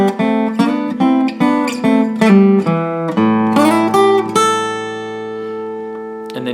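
Acoustic guitar picking the bass phrase, a short run of plucked notes moving up the neck that settles into a sustained ringing chord, played solo and close.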